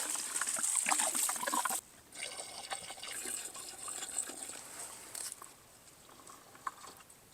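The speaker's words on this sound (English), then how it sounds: "So we're just going to pour it in and do a 10-minute soak." Water poured into a container for soaking garlic before planting, a steady close splashing and trickling that briefly cuts off, then resumes as a softer, fainter pour.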